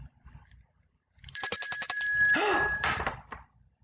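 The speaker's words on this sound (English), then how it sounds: "Good job, you heard a bell ring." A bright bell rings in a quick series of rapid strikes, loud and close, then fades out after about two seconds.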